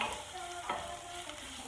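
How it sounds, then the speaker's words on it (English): Spices, including coriander, sizzle and crackle in hot oil while being stirred, a short close-up frying sound. "Frying brings out the spice flavors. It's called blooming the spices."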